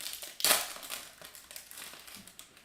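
Paper being crumpled while hockey trading card packs are opened, a sharp crinkling burst early on followed by softer, scattered rustles and crackles close to the mic.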